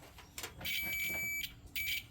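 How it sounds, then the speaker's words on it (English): A multimeter gives two short high continuity beeps while testing fuses on a 2000 Chevrolet Blazer with a crank-no-start fault, the first beep longer, faint against light workshop clatter. "So if the fuse is good, you hear a beep."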